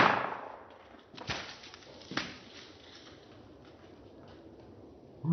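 A Cold Steel blackthorn walking stick swung hard into a watermelon, producing a couple of sharp, close impact cracks in quick succession against a quiet outdoor background.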